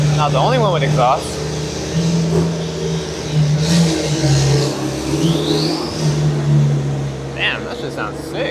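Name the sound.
Porsche GT4 RS engine revving and exhaust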